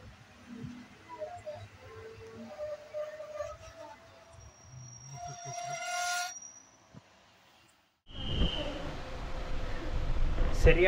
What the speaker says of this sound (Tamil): நம்ம வண்டி பார்த்தீங்கன்னா ஒரு 15 நிமிஷம் டிலேயோட ஒட்டஞ்சத்திரம் ரயில்வே ஸ்டேஷன் வந்தாச்சுங்க.